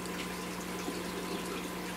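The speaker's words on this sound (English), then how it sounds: "I just want to check how much flow we're getting out of this filter." Steady water flow pours from a fish tank filter in a fish room, a constant, even rushing wash with no breaks, moderately quiet and alone.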